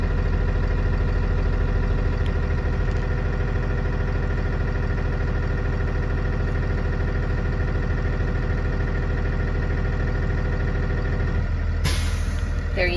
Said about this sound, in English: once it reaches 125, you will hear the release of air